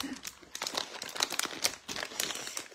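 A bag of M&M's is opened up close, with a run of crisp, irregular plastic crinkles and rustles in bursts, and no talking over them.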